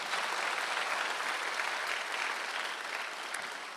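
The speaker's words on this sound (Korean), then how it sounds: "박수 세게 치세요" A church congregation claps loudly during a Korean Sunday worship service, a dense, steady wash of applause that holds strong throughout and eases slightly near the end.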